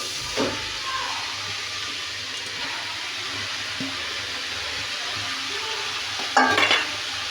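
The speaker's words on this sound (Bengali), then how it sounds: "লাউ কুচি কেটে রেখেছি" Chopped bottle gourd sizzles and fries in a hot pan on a stove, with a steady soft hiss throughout. A spoon stirs it, and a brief clatter comes near the end.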